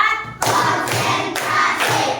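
A class of students claps in a counted clap game, loud broadband bursts of many hands at once, several groups of claps close together filling the room with no voices heard.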